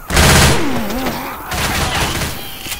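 Loud, close automatic gunfire rattles on in the video game Left 4 Dead 2, a sustained volley of rapid shots with a brief dip midway before the firing picks back up.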